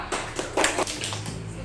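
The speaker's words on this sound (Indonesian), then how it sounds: "tepuk tangan buat Kaila" Light applause for a student named Kaila in a classroom, a few scattered claps rising then fading, small and close rather than a full crowd.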